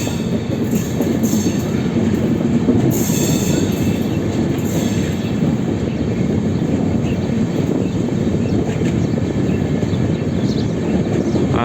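Rajdhani Express train accelerating on rails, with a loud continuous rumble of wheels on track, faint clickety-clack and occasional high squeals, heard from on board and steady throughout.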